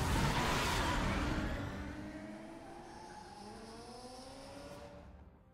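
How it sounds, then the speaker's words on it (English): A car in the Batman Telltale video game screeches loudly in a skid, tire squeal sweeping downward over a steady engine roar, then fading out with no talk. "decrease the sound of your car when you're driving around"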